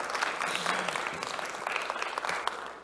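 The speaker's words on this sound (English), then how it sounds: "Big round of applause here." Conference audience at a Jamf user event applauds steadily, a dense, even wash of many hands clapping at moderate distance with no voices over it.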